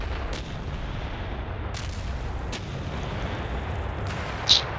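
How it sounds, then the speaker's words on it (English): Artillery guns fire in the wargame Panzer Battles North Africa 1941, heard as a steady low rumbling barrage with scattered distant booms and one brief sharper burst near the end. "Let's take these guns. Let's fire at this fortress here."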